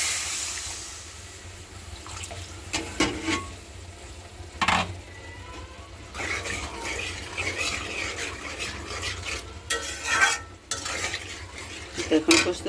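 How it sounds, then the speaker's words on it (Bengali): Greens and spices sautéed with a splash of water in a pan, stirred with repeated scraping and clinking of a utensil against the metal over a softer sizzle, close and steady. "পানি দিয়ে কষিয়ে নিব"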